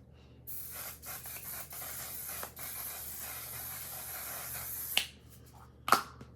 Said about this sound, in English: I'm going to be using the One Size Until Dawn waterproof setting spray